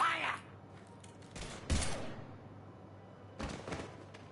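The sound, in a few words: gunfire in the video game Mass Effect 3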